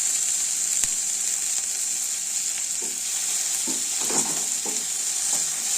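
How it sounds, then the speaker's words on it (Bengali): Chopped tomato sizzles steadily in hot oil with onion, garlic and ginger paste, under a loud continuous frying hiss broken by occasional stirring scrapes and clicks. "এরপর আমরা এখানে দিচ্ছি টমেটো কুচি।"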